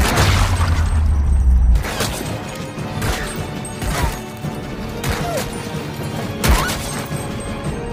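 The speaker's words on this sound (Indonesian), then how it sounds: "tembakan demi tembakan terus dilepaskan" A volley of gunshots and heavy impacts, several sharp cracks and booms spaced irregularly over a constant rumbling background.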